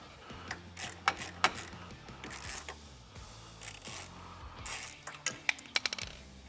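Long T27 Torx bolts being cracked free with a ratchet on a Harley-Davidson Milwaukee-Eight oil cooler: sharp metallic clicks and ratcheting in short bursts, with small clinks, close by and fairly quiet.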